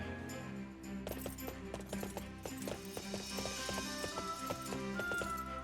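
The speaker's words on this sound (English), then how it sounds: "let us get these horses on the road." Horse hooves clip-clop steadily in a Fire Emblem Warriors: Three Hopes video game, a repeated rhythmic trot over game music and ambience, with an occasional whinny.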